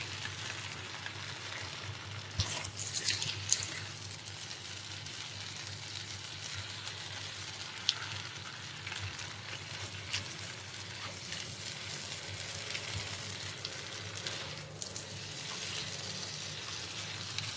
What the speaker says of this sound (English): So I'm just gonna fry and then stir fry until it's not as wet, a bit drier.